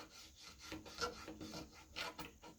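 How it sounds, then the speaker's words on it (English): Burnishing tool rubbing a transfer onto a guitar, a soft, close, rhythmic scraping of short strokes repeated several times at low volume. "So I'm burnishing it on."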